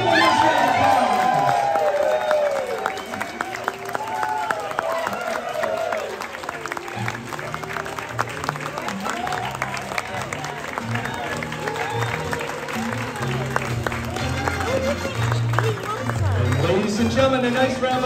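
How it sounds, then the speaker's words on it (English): Wedding guests applauding and cheering during the wedding party introductions, a sustained crowd clapping over a loud announcer and background music. "Give them a round of applause."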